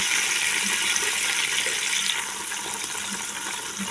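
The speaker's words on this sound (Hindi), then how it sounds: "तो ये देखिए, थोड़ा सा इसमें जो है पानी ऐड करेंगे।" Water is poured into a pan of browned onions while cooking yakhni pulao, a steady continuous splashing rush that runs throughout, slightly softer in the second half.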